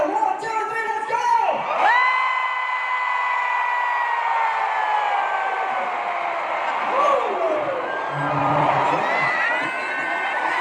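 Event crowd at an anniversary thanksgiving gathering shouting and cheering together on cue, a loud sustained roar of many voices with whoops, swelling and dipping over about ten seconds.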